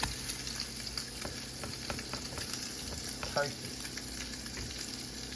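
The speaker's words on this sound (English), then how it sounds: "So next, I'm about to flip my banana pancake, my first one." A homemade banana pancake frying in a pan, giving a soft, steady sizzle with light scraping and tapping from a utensil near the flip; one brief spoken word passes over it.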